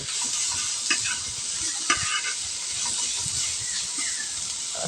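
Leafy greens (saag) frying in a pan with a steady broadband sizzle, broken by a few sharp scraping stirs from a spatula, close and continuous with no voices.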